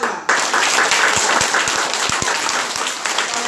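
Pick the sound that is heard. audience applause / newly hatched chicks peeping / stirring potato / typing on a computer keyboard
audience applause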